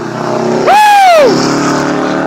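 A fast Subaru race car passes nearby, its engine note rising into a loud, sweeping pitch that bends downward as it goes by, over steady background rumble at a racing event.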